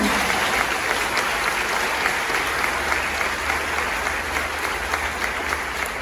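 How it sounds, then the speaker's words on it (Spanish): A church congregation at a retreat bursts into sustained applause, dense and steady clapping from many hands filling the whole stretch at an even, fairly loud level. "Un aplauso al Espíritu Santo."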